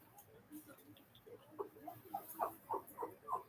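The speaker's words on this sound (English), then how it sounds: "Our dog's being a bit hyper." A hyper dog whimpering indoors, a string of quick high whines and yelps growing louder and more frequent, heard close over faint background noise.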